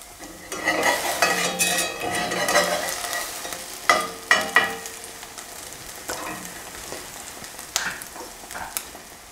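A slice of panettone French toast fries in a cast iron pan, with a steady sizzle joined by several sharp metallic scrapes and clinks of a utensil against the pan.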